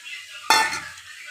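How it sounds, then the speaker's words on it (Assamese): Water hits a hot pan of frying spices for an eggplant curry, setting off a sudden loud sizzling hiss that bursts and then fades over about half a second. "এতিয়া মই ইয়াত পানী দি দিম"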